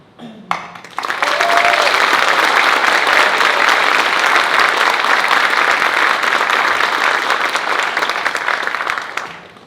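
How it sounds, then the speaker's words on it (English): Sustained applause from a school auditorium crowd honoring new National Honor Society inductees, a brief murmur before it swells into dense, even clapping that holds for several seconds and then fades. "please join me once again in applauding all of our new Honor Society members"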